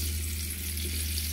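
An egg-battered chile relleno fries in a pan with a steady, soft sizzle and crackle, close and continuous, with no talking.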